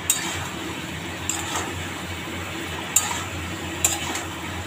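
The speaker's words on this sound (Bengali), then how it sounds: "এবার এটাকে একটু নাড়িয়ে চাড়িয়ে দিচ্ছি।" Chicken soup being stirred in a pot: a steady soft swirl with a few sharp spoon clinks against the metal rim at irregular intervals, close by and fairly quiet.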